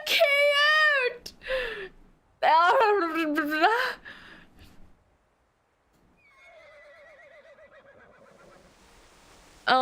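A horse whinnies in a visual novel game scene, a loud, wavering neigh in two bursts near the start, followed by a quieter, trembling whinny later on.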